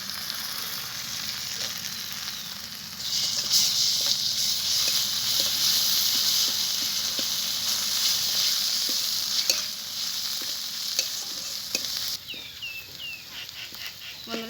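Ginger-garlic paste sizzling in hot oil with spices for a kochu recipe: a loud, dense hiss runs steadily with occasional spatula scrapes, then drops away near the end into a few squeaky stirring strokes.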